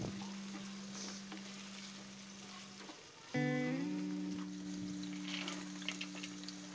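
Onions and cashews fry in a pan with a soft, continuous close sizzle and light stirring, over a steady tonal hum that shifts pitch halfway through.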